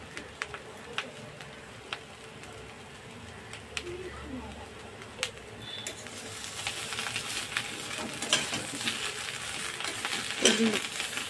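Fried masala with turmeric powder for a katla fish curry is stirred in a pan: quiet clinking at first, then a sizzle that swells and grows louder over the second half, with a few stirring knocks.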